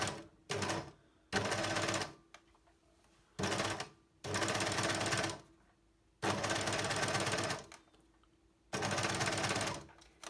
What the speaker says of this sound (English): it is a little bit more tricky doing circles on an overlocker